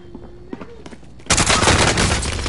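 Hostile gunfire in Call of Duty: Warzone: after a quiet stretch with a faint voice, a loud, sustained, close burst of automatic fire suddenly erupts and continues to the end.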